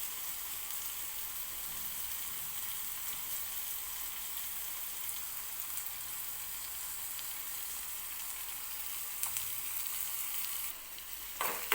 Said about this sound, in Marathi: तेलामध्ये आपल्याला आलं सुद्धा भाजून घ्यायचं आहे.